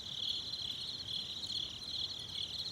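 Crickets chirp at night in a steady, continuous high trill, rhythmic pulses repeating without pause, moderately loud and alone with no voices.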